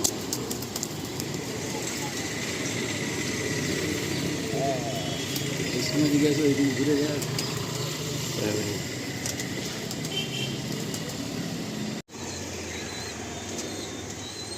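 A flock of Malwai pigeons in a loft, soft cooing and occasional wing flutters under a steady background hum, with someone talking over much of it.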